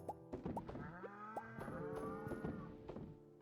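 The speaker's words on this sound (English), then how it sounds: "I hear you mooing." A cow moos several times in a cozy farming video game, short rising and falling lowing calls over soft background game sounds, moderately close and quiet.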